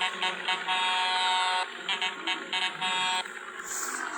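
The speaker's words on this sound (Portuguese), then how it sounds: "buzinadinha de novo pra quem deixou o like" Truck air horn honking in a truck-driving video game, sounding in a series of loud blasts with short gaps between them, fairly close and clear, with no talk over it.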